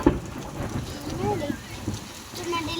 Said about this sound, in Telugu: ఇప్పుడే వాన పడుతుంది